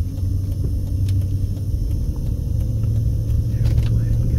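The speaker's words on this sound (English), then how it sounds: "Wait for this truck." A heavy truck rumbles along a northeast Las Vegas street after dark. Its low, dense engine drone stays loud and close for several seconds, and traffic noise swells briefly near the end.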